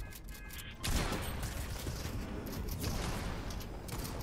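Bursts of gunfire in the battle game Fortnite, a dense rattling volley that erupts abruptly and keeps going steadily at close range with no talking.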